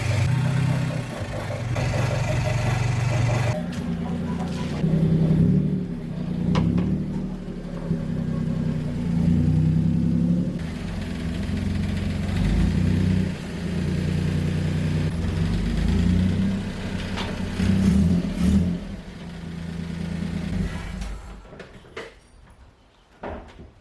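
An Isuzu D-Max 4JJ1 diesel engine runs steadily in a garage for about twenty seconds, a low, even idle rumble with faint clanks, before cutting out and fading near the end.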